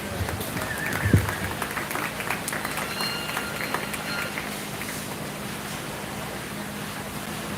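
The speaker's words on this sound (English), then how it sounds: "So let's give these two a round of applause." Crowd applauding two young exhibitors at a 4-H/FFA meat goat show at a county fair, a soft, steady, distant patter of clapping that stays even throughout under a faint background hum.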